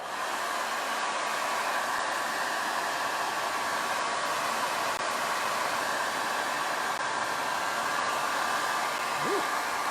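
Hot-air dryer blowing steadily on wet material at a tiki mug workshop, a loud, continuous broadband whoosh with a faint motor hum that runs unbroken and alone, with no talking.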